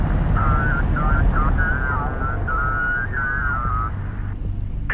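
A steady vehicle engine hum rumbles on in Homeworld: Deserts of Kharak, with wavering whistling tones rising and falling above it as the engines spool up, loud and continuous, a brief clatter near the end.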